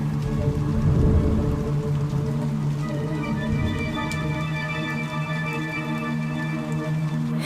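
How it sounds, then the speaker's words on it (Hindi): Steady, heavy rain pours down continuously, dense and loud throughout, with background music playing along. "तभी बहुत तेज बारिश और तूफान आया।"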